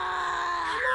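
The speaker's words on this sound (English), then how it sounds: "apparently Ron is just beyond this door if his screams are that loud and clear" Ron's muffled scream comes from behind a door in the Harry Potter and the Prisoner of Azkaban video game: a brief, sustained, strained vocal cry, held steady and rising slightly at the end.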